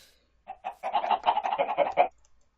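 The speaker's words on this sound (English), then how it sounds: "And a small chicken farm, for if I decide I want to eat meat over here." Chickens on a small farm in Minecraft, a quick run of clucks with a couple of isolated ones and then a dense burst, close and clear, with no other sound.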